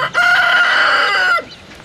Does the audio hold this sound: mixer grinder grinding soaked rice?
no